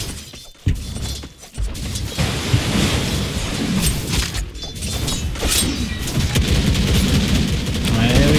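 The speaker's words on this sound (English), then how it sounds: "There's your second rocket barrage here." Rocket Barrage ability in Dota 2 firing a rapid volley of explosive impacts and crashes, dense and loud, layered over busy in-game battle noise.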